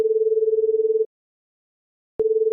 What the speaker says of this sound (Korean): 집에 돌아온 유나는 밤이 깊도록 민우에게 전화를 걸었지만 끝내 받지 않았다